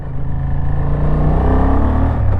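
A Honda Transalp XL750 motorcycle accelerates hard, its engine note rising loud and close as it climbs through the gears.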